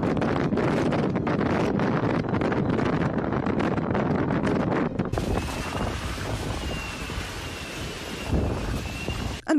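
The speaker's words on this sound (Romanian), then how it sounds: "Rafalele de vânt au atins 170 de km pe oră." Strong gusts from storm Aurora buffet the microphone with a continuous loud roar and rumble, surging and easing in waves, close and unbroken, with no voices.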